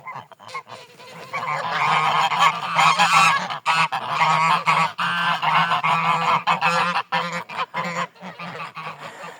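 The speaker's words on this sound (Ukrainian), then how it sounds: "Це він і з ним шість гусинь ходить." A flock of domestic grey geese, a gander with six geese, honks loudly and almost continuously at close range, with overlapping nasal calls in uneven bursts and no talk.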